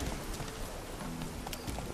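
Horse hooves galloping in The Witcher 3, a steady rapid clip-clop of a ridden horse close by, continuous across the moment with game ambience underneath.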